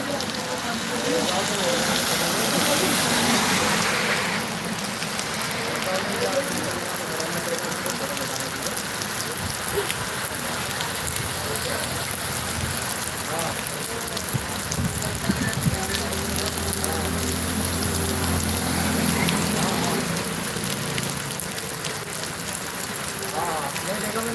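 Heavy evening rain pours continuously at Pahur, a dense steady hiss of rain on surfaces and water that holds loud and unbroken throughout, with a low rumbling undertone partway through.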